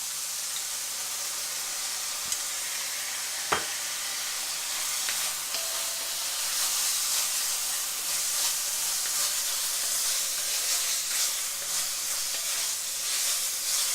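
Fried rice with soy sauce sizzling in a hot pan, a steady close hiss with a couple of sharp clinks, no voices.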